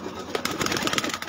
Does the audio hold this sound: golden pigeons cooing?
yes